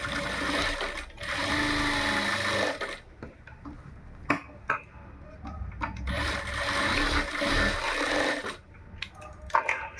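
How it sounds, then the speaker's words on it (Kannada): A sewing machine stitches a lined blouse in runs of steady mechanical whirring, stopping and starting with small clicks and handling noises between bursts, close and fairly loud. "ಈ ರೀತಿ ಇಟ್ಕೊಂಡು ಇಲ್ಲೊಂದು ಅರ್ಧ ಇಂಚಷ್ಟು ಸ್ಟಿಚ್ ಮಾಡ್ಕೊತ ಈ ಕೊನೆಗೆ ಬರಬೇಕು."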